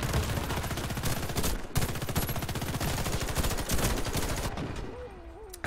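Rapid, sustained gunfire from a burst weapon in the online shooter Warface, a dense stream of loud shots with no pause, thinning out just before the end.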